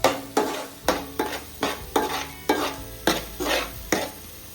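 Masala frying in a pan for a crab curry, with turmeric and salt stirred in: a repeated scraping stir, about eight strokes, over a steady close sizzle, with no talk.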